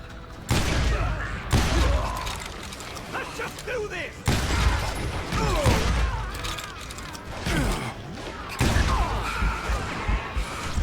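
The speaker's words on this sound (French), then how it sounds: "Tire donc le porteur avec une carabine." Repeated carbine shots in the Western shooter Call of Juarez Gunslinger, several loud cracks spaced a few seconds apart with rattling, clattering game effects between them and a voice talking over the action.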